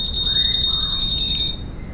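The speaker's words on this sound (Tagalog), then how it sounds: "so naka alarm yun, activated yung alarm" A Honda PCX 160 anti-theft alarm buzzer sounds a steady, loud, high-pitched continuous tone for about a second and a half, then cuts off.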